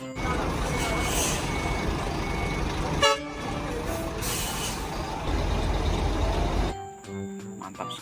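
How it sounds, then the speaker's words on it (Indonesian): A cement mixer truck reverses with repeated high backup beeps over a loud rumbling engine, a brief hiss of air brakes midway, then the engine fades. "ada truk molen lagi"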